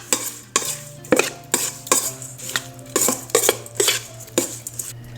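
Repeated metallic clinks and scrapes of a utensil against a bowl while shrimp is tossed with sweet paprika, pepper and salt, a brisk steady rhythm of close, clattering strokes with no talking.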